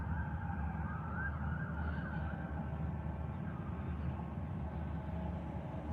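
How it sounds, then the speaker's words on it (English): An emergency vehicle siren wails steadily in the distance, heard from a moving car near a motorway at night, with a continuous low road rumble underneath. "I heard a siren."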